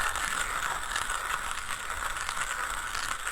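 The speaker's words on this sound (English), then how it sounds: "with this extremely long handle, I can slowly grind" An OE Lido OG manual coffee grinder is cranked slowly with an extra-long handle, giving a steady, close gritty grinding rattle with faint ratcheting pulses and no voices.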